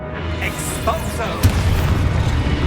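A spell-cast explosion in Hogwarts Legacy, a mid-battle blast bursting in about halfway through over a layered backdrop of combat effects and swooshing magic.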